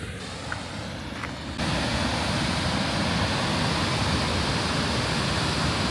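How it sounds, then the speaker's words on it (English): Waterfall in Iceland near Vestrahorn: a steady, loud broadband rush of falling water that swells abruptly after the first moment and then holds constant, continuous and close, with no voices. "I'm gonna go down to this waterfall real quick"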